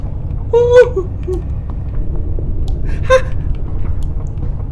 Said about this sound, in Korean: 숨을 너무 크게 내쉬셔 저분